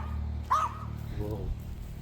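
A dog barks sharply once nearby, then gives a lower whining yelp, with faint background hum and distant outdoor noise around it.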